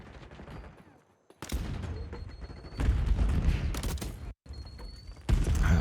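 Gunfire in Black Ops 6 with a C9 submachine gun loadout: rapid bursts of automatic shots in several loud clusters, separated by brief pauses, with crackling game effects in between.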